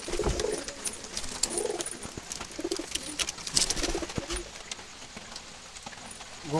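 Jalali wild pigeons cooing close by, several soft low coo phrases in repeated bursts over scattered clicks and shuffling.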